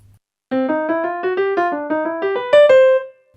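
Solo piano improvises a flowing jazz line combining two phrases, about a dozen quick notes rising and falling, ending on a brighter sustained high note, close and clear.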